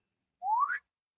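A human voice imitates a creature's whistle with a single short rising whistle, clear and isolated, surrounded by silence.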